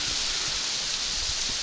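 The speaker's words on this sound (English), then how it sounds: "We have a lot more water coming down now from the waterfall." A waterfall swollen by rain at a winter camping site, a steady broadband rush of falling water, loud and unbroken, with no voices.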